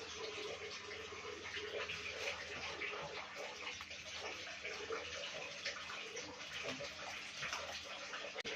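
A kitchen tap runs steadily while hot chili peppers are washed for harissa, a constant close splashing stream with small shifts as the peppers are handled.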